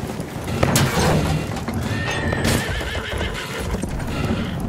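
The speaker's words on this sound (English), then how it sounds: "There's an enemy horse rider!" A horse neighs and whinnies in the video game Battlefield 1, loud and close, with clip-clopping hooves and battlefield noise around it.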